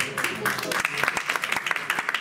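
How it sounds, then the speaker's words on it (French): Applause from an indoor audience, a dense patter of many hands clapping at moderate volume, with some talking mixed in. "Vous pouvez l'applaudir."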